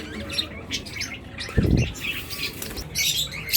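Pet budgerigars, including a pied blue opaline pair, chirping and chattering in a cage at close range, a busy run of short tweets with a brief burst of wing flapping in the middle.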